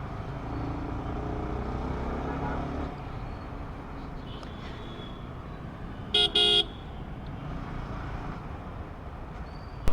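Bangalore street traffic rumbles steadily nearby, with cars and motorbikes passing, broken by a quick pair of short car horn toots midway and a faint horn near the end.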